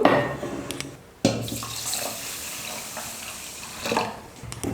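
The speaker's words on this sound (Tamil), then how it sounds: "ஒரு பாத்திரத்தில் சேர்த்துட்டு தண்ணி ஊற்றி 1/2 மணி நேரம் ஊற வச்சுக்கணும்." Water splashes and streams into a vessel of rice for soaking, with a brief pause before the pouring resumes steadily and fairly close.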